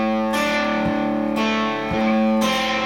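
A heavily distorted electric guitar plays the opening bar of a riff, three loud sustained chords ringing out one after another with no voice.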